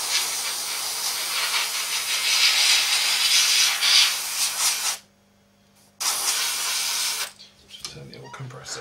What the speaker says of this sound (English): Just turn the old compressor air pressure up just a little bit.